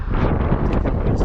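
Gusty wind buffeting a flying drone above a port in Greenock, Scotland, a loud continuous rushing roar close to the microphone.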